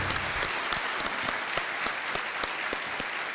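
Studio audience on a TV quiz show claps for a departing contestant, with loud sustained applause and a crisp, rhythmic beat of sharp hand claps running steadily throughout.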